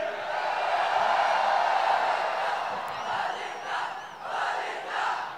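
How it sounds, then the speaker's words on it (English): Large crowd cheering and whooping at a live cricket awards event, a loud sustained roar that swells and dips in waves across the whole stretch. "Come on, a bigger cheer for him!"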